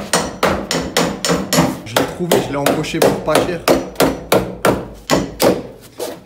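A worker hammers repeatedly inside a house while a BMW E30 is being reassembled, giving a steady run of sharp, loud, evenly spaced blows, with someone talking between the strikes.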